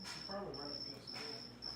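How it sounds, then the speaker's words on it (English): A loud cricket chirps in a steady, continuous trill close by, with a voice talking faintly underneath. "It's the loudest cricket ever."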